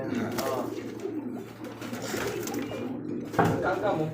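Fancy pigeons coo at a pigeon sale, their low repeated calls running steadily and fairly close, with other birds and faint background voices mixed in.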